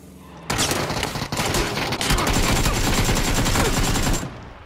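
Rapid automatic gunfire in the video game PUBG erupts suddenly and rattles on continuously for about four seconds, loud and close, then cuts off abruptly.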